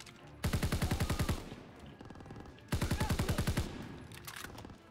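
An automatic gun in Call of Duty: WW2 fires two rapid bursts of about ten shots each, loud and close, with a quieter gap of echoing tail between them.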